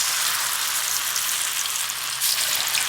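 Hot oil sizzles steadily in a pan on medium heat, ready for frying bread pakoda; a dense, continuous hiss with no voices.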